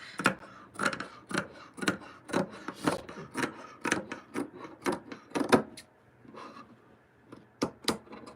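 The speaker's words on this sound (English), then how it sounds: "And then I cut it on the mark." Scissors cutting knit fabric at close range, a steady run of crisp snipping strokes that slows and spaces out toward the end, with no talking.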